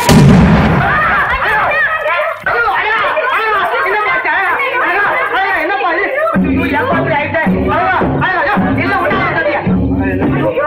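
A dense barrage of firecracker bangs and pops crackles continuously and loudly, with excited voices shouting and chattering underneath.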